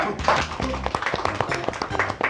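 An audience gives a round of hand clapping at a stage event, a steady patter of claps lasting a couple of seconds over a low tonal background, with no talking.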